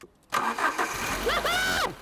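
A long-stored car engine cranks briefly and catches, settling into a steady running rumble, with a voice exclaiming over it.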